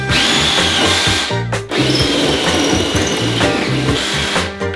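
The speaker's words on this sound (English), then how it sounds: "So are you feeling confident drilling into this step here?" A power drill bores a hole into a wooden stair step during a staircase renovation. The motor whines loud and close in pulsing bursts, with a brief pause partway before the drilling resumes.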